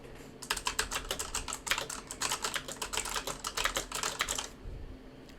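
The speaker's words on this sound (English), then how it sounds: "I'm going to do a little bit of typing on my keyboard, which is a pretty loud mechanical keyboard" A pretty loud mechanical keyboard clatters under a burst of fast typing, its keystrokes sharp and close in a dense, uneven patter for about four seconds before trailing off, with no speech.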